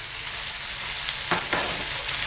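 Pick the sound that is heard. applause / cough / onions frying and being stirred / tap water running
onions frying and being stirred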